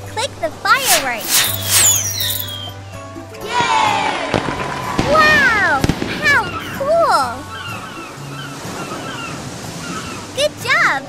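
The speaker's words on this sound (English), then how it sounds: "Click the fireworks!" Fireworks in a kids' summer ice cream video game pop and crackle in quick bursts over cheerful game music, with a voice speaking over them.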